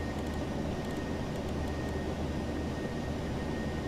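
Steady roar of a Ryanair Boeing 737-800's engines heard inside the cabin during the climb out of Manchester, a constant broadband rumble with a faint steady tone above it.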